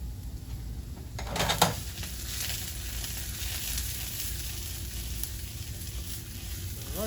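Zucchini sizzles and caramelizes in a hot pan with a steady, close crackle of frying, and a brief clatter of a utensil or pan early on; no voices are heard over the frying.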